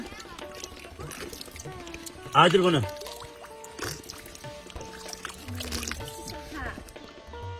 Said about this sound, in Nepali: यो क्लिन पानीलाई चाहिँ म पिउँदैछु यहाँ हातले उठाएको छु